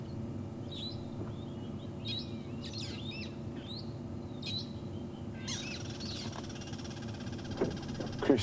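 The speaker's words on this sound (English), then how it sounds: "Crested barbets and parrots crawling around us." Crested barbets and parrots calling at dawn in the African bush: scattered short chirps and squawky calls, some near and some farther off, over a low steady engine-like hum with no talk.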